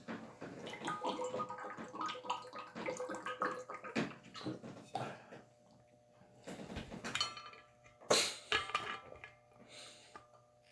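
Water is poured and handled at a lectern during a talk, with soft splashes, glass and bottle clinks, and faint drips, close but quiet, with no speech over it.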